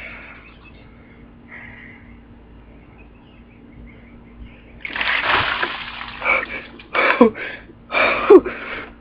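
Water from a big bucket dumped over a person in an ice bucket challenge, a sudden loud splash and splatter after a quiet start, followed by sloshing bursts and gasps.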